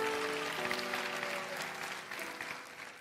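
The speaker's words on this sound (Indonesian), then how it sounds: "berikan tepuk tangan buat Tuhan ya" Audience in a church service for children and teens applauding steadily, a dense patter of many hands close and fairly loud, with a faint sustained tone running beneath and the clapping easing slightly toward the end.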